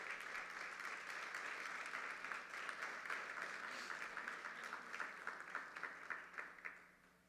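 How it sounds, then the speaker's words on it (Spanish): A church congregation applauding during a sermon, a sustained, moderately distant wash of many hands clapping that gradually thins into scattered claps and fades out near the end. "Dale un aplauso a Dios y dale la gloria a Dios."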